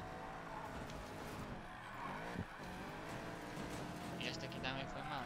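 A car drifting in Need for Speed Payback, engine droning steadily while tires squeal through the slide, with a brief scrape midway and someone talking over it.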